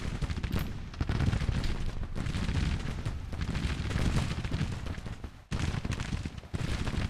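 Musket volley fire in Grand Tactician: The Civil War, a dense, continuous crackle of many rifles going off at once with overlapping distant reports and rumbling, sustained at moderate level with brief pauses near the end.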